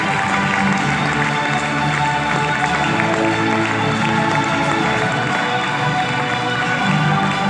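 Large audience at a disability inclusion awards ceremony in Chennai applauding loudly, a thick continuous roar of clapping with crowd noise that stays steady from start to finish.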